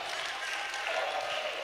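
A concert audience applauding inside La Tôlerie, Clermont-Ferrand: dense, steady clapping from a crowd filling the room, with faint voices mixed in.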